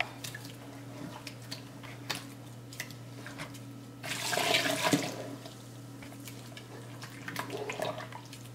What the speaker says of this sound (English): Another 2 cups of water, but I'm going to add it bit by bit.